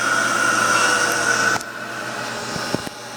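An Acer Ultima 10-inch by 50-inch milling machine spindle turning at 2,200 RPM gives a steady mechanical hum with a high whine, which drops and settles into a quieter running tone about halfway through.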